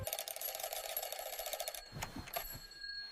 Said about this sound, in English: My alarm rings and I turn it off.